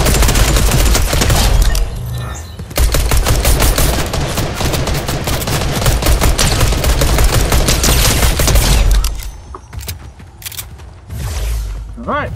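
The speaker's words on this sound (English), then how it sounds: "gunshots in front of me" Rapid bursts of gunfire in Fortnite Chapter 4 Season OG, loud and dense automatic fire close ahead with brief gaps, a few scattered single shots near the end, with a voice talking in the background.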